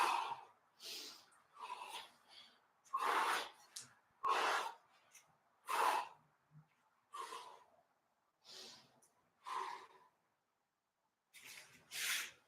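Deep, rhythmic breathing during a kettlebell mobility workout, a series of loud breathy inhales and exhales roughly every second or so, close up with short pauses between them and no talking.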